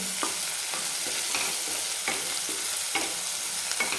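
Coarsely crushed ginger and garlic sauté in a hot pan while a spatula stirs them, giving a steady sizzle broken by regular scraping strokes about every half second, with no voices.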